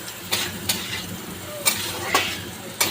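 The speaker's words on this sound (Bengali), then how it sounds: "কড়াইতে আমি পেঁয়াজটা দিয়ে দিয়েছি," Onions frying in oil in a wok while being stirred, a steady sizzle broken by four or five sharp scraping strokes of the spoon against the metal, close and fairly loud.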